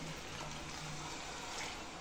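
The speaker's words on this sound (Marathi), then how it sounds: "आता मी याच्यामध्ये टाकणार आहे पाणी." Water is poured into a pot of boiling dhaba-style mutton curry, a steady, soft rushing pour that runs evenly through the clip with no talk over it.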